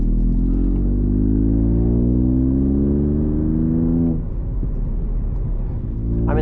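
The engine of a 2018 MK8 Ford Fiesta ST pulls hard in third gear, a loud, steady in-cabin roar climbing in pitch for several seconds before a shift and renewed rise.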